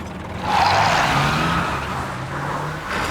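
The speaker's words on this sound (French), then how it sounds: "Madame Badger est au volant de son tracteur." A tractor's engine drones steadily on the road in a cartoon, a broad rumble rising as it nears and then holding, fairly loud with no talking.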